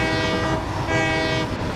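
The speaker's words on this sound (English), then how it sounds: "It literally did a steam locomotive whistle!" Steam locomotive whistle on a train in the game Satisfactory 1.2: a loud, sustained harmonic whistle blast with a slight dip partway through, heard alone and close.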